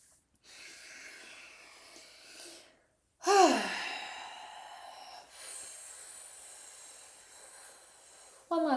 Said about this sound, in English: let out the tension as you exhale through your mouth